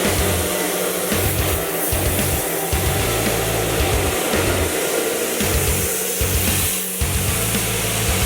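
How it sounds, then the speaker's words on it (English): A loud, steady vacuum roar runs throughout, pulsing slightly as leaves and debris are sucked up from a car, close and continuous with no speech. "Vacuuming out leaves and debris before pressure washing."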